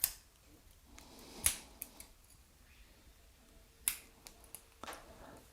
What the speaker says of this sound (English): Travel scissors.